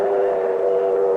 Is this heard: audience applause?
no